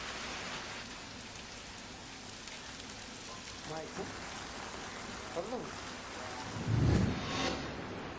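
Steady rainfall after summer heat, a dense, even hiss of drops on surfaces with a low rumble swelling near the end, a voice speaking over it.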